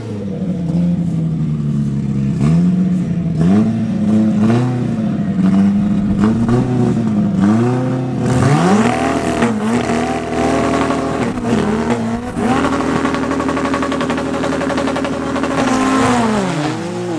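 A drag racing car at a national drag challenge at Midvaal Raceway roars down the strip, its engine climbing through repeated rising gear sweeps, loud and continuous with no talk over it.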